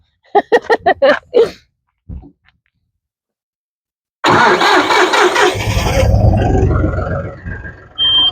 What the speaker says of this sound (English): She started the tractor.